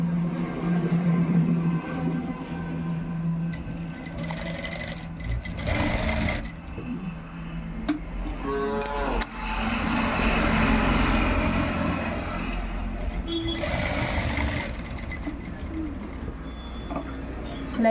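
A sewing machine runs in bursts while stitching a kurta seam, its motor whirring steadily then pausing, with pigeons cooing and faint road traffic in the background.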